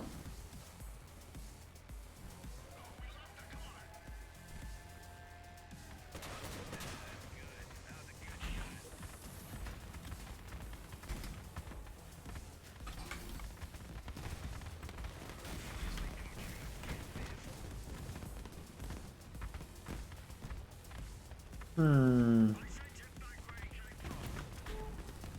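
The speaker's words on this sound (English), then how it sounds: "God, I love these missiles" Missiles launch and explode in a video game in rapid bursts of booms and crackling blasts, along with mechanical whirs and one louder sweeping tone near the end, under occasional talk.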